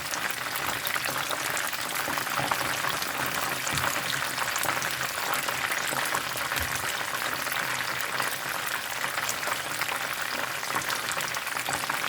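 Honey Cajun Old Bay chicken fries in hot oil over slightly lowered heat, producing a steady, dense crackling sizzle that holds evenly from start to finish with no talking.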